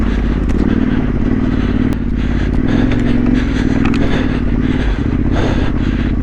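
An off-road motorcycle rides over rough, rocky trail in the Yorkshire Dales, its engine droning steadily with clattering and scraping from stones and terrain, loud and close throughout.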